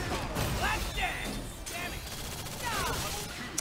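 Gunshots in the fighting game Marvel vs. Capcom: Infinite, a dense volley of sharp cracks and impacts mixed with busy game effects, with a sharp final burst near the end.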